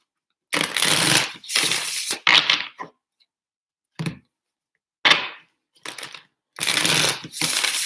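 Tarot cards shuffled by hand in a run of several brisk riffling bursts separated by pauses, close and fairly loud with a crisp papery texture.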